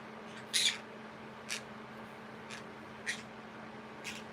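Pet birds in a home screech and squawk in short, sharp calls, about five bursts spaced roughly a second apart, one loud and near, the rest softer, over a steady low indoor hum.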